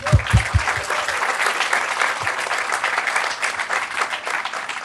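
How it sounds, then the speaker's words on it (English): An audience applauds at a senior living community's ribbon cutting ceremony in Romeoville. The clapping is loud and sustained and carries on without talk after a few low thumps at the start. "I just want to give everyone a round of applause for you and for everyone around us"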